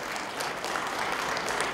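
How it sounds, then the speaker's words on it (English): Dense, steady applause from a large audience at the NATTA Golden Jubilee Celebration and 21st Convention of 2016, filling the space with continuous clapping that neither builds nor fades over its short span. "A round of applause."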